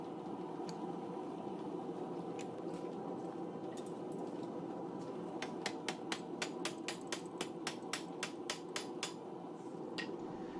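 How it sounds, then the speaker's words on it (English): Hammer striking a chisel to split the end of a forged fork into tines: a quick run of about a dozen sharp metallic taps in the second half, close and fairly faint over a steady background hum. "I'll use the chisel to split down from the end so that I can spread those newly formed tines open wide"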